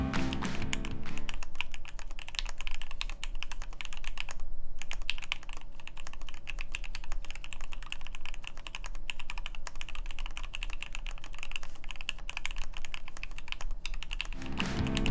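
Steady close typing on a Keychron Q8 mechanical keyboard with no dampening foam and the force break mod, a dense continuous run of keystroke clacks alone for about fifteen seconds.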